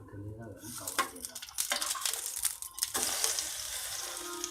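Egg-dipped bread slice for French toast frying in a pan, a steady broadband sizzle with scattered clatter and bumps over a few seconds, moderately loud and close.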